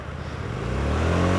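A Suzuki SV650 naked motorcycle passes close by, its engine growl swelling steadily louder over a second and a half with rising revs.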